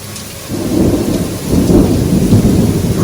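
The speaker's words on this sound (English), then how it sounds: "Lots of thunder, lots of lightning." A heavy thunderstorm roars with dense rain and a deep rolling rumble of thunder that swells after the first half second, loud and continuous with no voices.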